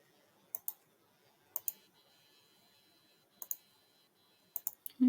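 Computer mouse clicks during a GIS software exercise, faint and isolated, coming in small groups of two or three quick clicks spaced across a quiet background.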